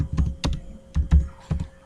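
A computer keyboard is typed on nearby in short bursts of crisp keystrokes, about four quick clusters, with no talking.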